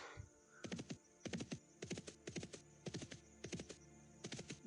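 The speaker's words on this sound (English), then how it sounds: "I love that horse." Horse neighs and hoofbeats from the online role-playing game Dark Age of Camelot: a repeating run of sharp clip-clop hits in grouped bursts, steady and fairly close, with no talking.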